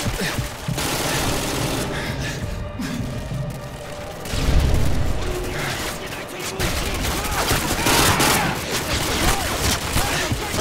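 Rapid bursts of AUG rifle fire crackle in Call of Duty Modern Warfare 2, mixed with booming impacts and dense game noise, the shots rattling in quick runs throughout.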